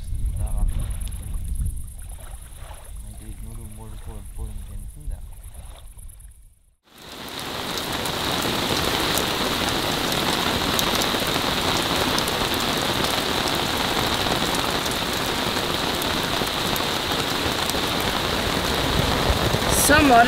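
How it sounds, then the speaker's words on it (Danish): Rain falls during a sailing trip in the Swedish archipelago, a dense, loud, steady patter on the boat's surfaces that takes over after a quieter opening stretch with faint voices and continues unbroken to the end. "det vi har stået op til i dag, det er simpelthen, at det regner"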